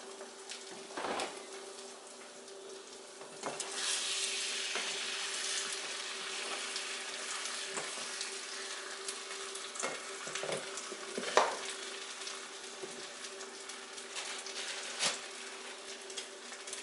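Food frying in a pan on a home stove gives a steady soft sizzle, broken by occasional scraping and clinking of a utensil stirring, moderately close, with no one speaking.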